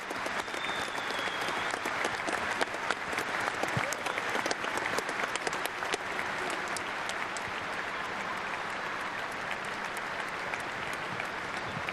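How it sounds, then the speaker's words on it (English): Stadium crowd and players at a rugby league World Cup match between Ireland and Australia applauding, a dense, steady wall of clapping sustained throughout without letting up. "And now applause from the players and indeed the crowd."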